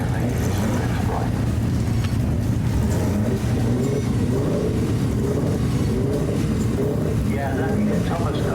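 A Healey sports car climbs the Prescott hillclimb course, its engine a steady, fairly distant drone throughout, with commentators talking over it.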